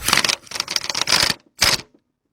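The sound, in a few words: impact gun tightening a small bolt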